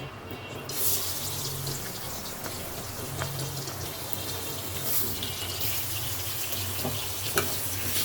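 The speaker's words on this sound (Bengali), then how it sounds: "এখানে হচ্ছে মাছ ভাজি করে নিব পেঁপের জন্য।" Fish frying in a pan, seasoned with turmeric and salt, giving a steady hiss and crackle that stays fairly faint and continuous throughout.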